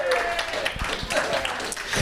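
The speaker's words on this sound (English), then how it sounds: "let's give a big applause to Enrique that's serving the tequila" An audience claps for Enrique, the bartender serving tequila at a tech-and-tequila talk event; a steady, dense patter of many hands, fairly close, with crowd murmur mixed in throughout.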